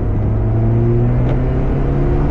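A Porsche 968 CS fitted with a Scart exhaust holds a steady, close engine rumble with layered harmonic tones, rising only slightly toward about 5000 rpm over a couple of seconds, with no talk.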